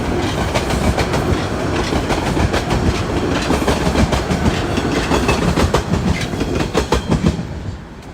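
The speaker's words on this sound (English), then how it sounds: "There goes the subway." Toronto subway train rumbling past on a rainy day along Yonge Street, a loud steady roar with rapid clickety-clack wheel beats that eases off at the end.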